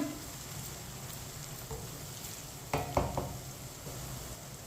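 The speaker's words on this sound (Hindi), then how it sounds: "इसी तरह चम्मच लाते हुए पकाएं, जलने नहीं देना।" Ginger and garlic fry quietly in a pan, a faint steady sizzle broken by a couple of louder scrapes and clinks as a spoon stirs them.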